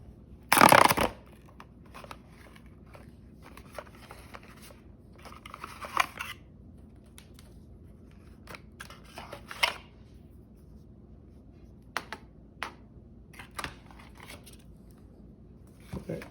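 Packaging of a 14-day continuous glucose monitor sensor being opened by hand: a sharp tearing rip near the start, followed by scattered soft crinkles, clicks and handling taps over a quiet background.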